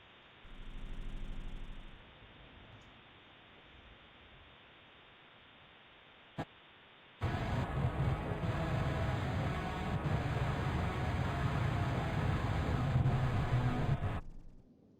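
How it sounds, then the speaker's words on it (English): Radio static hisses steadily while a radio is tuned in a Morse code survival video game. A short click comes partway through, then a loud, dense burst of broadband noise runs for several seconds and cuts off abruptly. "So let me tune the radio."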